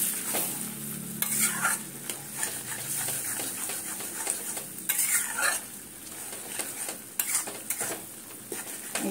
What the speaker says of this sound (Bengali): এইভাবে একটু নাড়িয়ে দিতে হবে